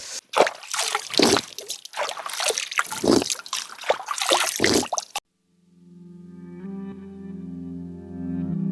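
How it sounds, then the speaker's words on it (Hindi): Water of the Pandav river in a forest rushes and splashes in uneven, close bursts for about five seconds. It then cuts to a steady, quieter tonal hum. "ये है दोस्तों पांडव नदी।"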